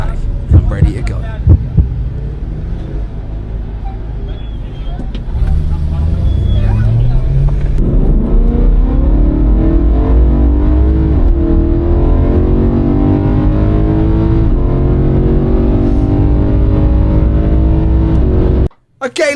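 A car accelerates on the Nurburgring during a first lap, its engine note climbing steadily in pitch and loudness over several gear pulls inside the cabin, with a brief quieter stretch and muffled voices early on.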